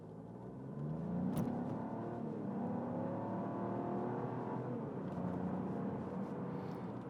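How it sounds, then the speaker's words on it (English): A 2024 Buick Envista Avenir compact SUV accelerating hard under full throttle, its engine note climbing steadily with rising harmonic tones over tire and road rumble, heard from inside the cabin and sustained for several seconds. "So we'll go ahead and accelerate after we come to this stop here, just to give you guys a feel of that."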